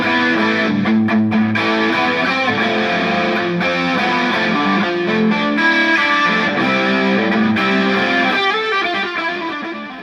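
Electric guitar played through an effects chain with a delay pedal, distorted chords and sustained notes trailing echoes, loud and full, with no talking.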